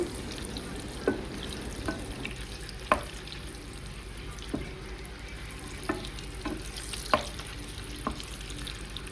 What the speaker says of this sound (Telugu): ఎగ్స్ మంచిగా మంచిగా ఫ్రై చేసుకోవాలండి, గోల్డెన్ కలర్ వచ్చే వరకు.